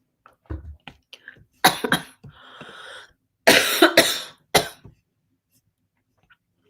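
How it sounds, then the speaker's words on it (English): A woman coughs in several harsh bursts, close to the mic, with a throat-clearing rasp and quiet pauses between the fits. "The cough, she is a coming."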